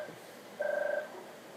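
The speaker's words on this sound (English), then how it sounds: "Oh, sorry about that. It's my phone." Mobile phone ringing indoors, a single short electronic tone burst with a slight warble, moderately close, in a quiet room before anyone speaks.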